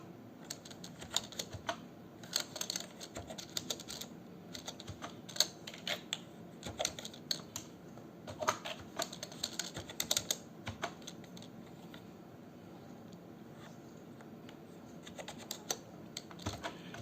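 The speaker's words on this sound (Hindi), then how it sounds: "जैसा भी मैटर आप टाइप करना चाहें वैसा मैटर आप यहाँ पर टाइप कर सकते हो" Keys clatter on a computer keyboard while a table is filled in in MS Word, a steady run of quiet, close clicks in irregular bursts with a few brief pauses and no talk.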